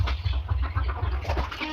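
A hen clucks in quick, uneven bursts right after laying an egg, close by and fairly loud, with steady low rumbling underneath.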